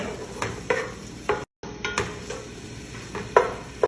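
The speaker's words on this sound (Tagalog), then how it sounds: "nilagyan ko siya ng konting oil at ngayon i-add ko na itong onion at garlic. Mix ko lang siya ng konti." Onion and garlic sauté in a little oil in a pot, a soft steady sizzle under scattered clinks and scrapes of a spoon against the metal as they are stirred.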